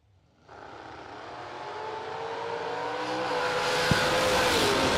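Drag race cars launching at a drag strip, one a Mopar-powered entry, after a moment of quiet the engines roar up and keep rising steadily in pitch and loudness, with a sharp crack near the end.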